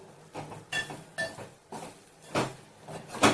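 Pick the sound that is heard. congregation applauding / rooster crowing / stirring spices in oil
stirring spices in oil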